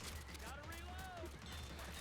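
Rapid gunfire from the Left 4 Dead 2 video game on the Swamp Fever campaign, a dense burst running steadily under ongoing talk.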